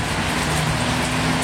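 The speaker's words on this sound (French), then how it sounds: "Bon ben la pluie nous lâche pas." Rain pours steadily during a bike ride in Baja California, a loud, even hiss close by with a low hum of traffic or wind beneath it.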